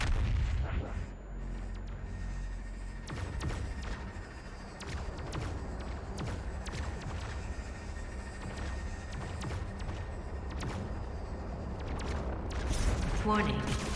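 BFG 10,000 firing in Doom Eternal, heavy booming blasts and rumbling impacts over a low drone, with an automated voice and other speech heard over the din.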